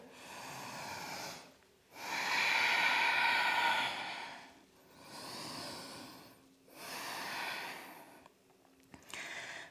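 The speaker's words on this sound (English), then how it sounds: "Exhale through the mouth." Long, audible breaths exhaled through the mouth during an intermediate yoga flow, several slow whooshing exhales separated by brief pauses, close and clear with no talking.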